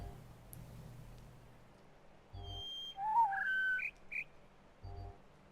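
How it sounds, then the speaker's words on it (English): Bird call in the puzzle video game The Witness, a few short high chirps and a rising whistle against a quiet ambient background, with soft low thumps now and then. "It's like there's the bird."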